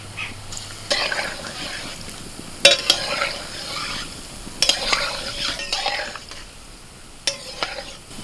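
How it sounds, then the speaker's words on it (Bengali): Tal fuluri, palm fruit fritters, frying in hot oil: a steady close sizzle with bursts of bubbling as batter drops in, plus occasional clinks of a spoon or utensil against the pan. "এবার ফুলুরি ছেড়ে দিচ্ছি।"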